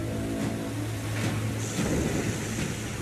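Airport fire-truck water cannons on turrets pour a steady, roaring rush of water onto a burning fuselage and engine during a Heathrow fire drill, with a low engine rumble under the spray.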